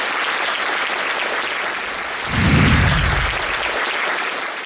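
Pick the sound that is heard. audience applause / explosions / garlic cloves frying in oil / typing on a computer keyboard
audience applause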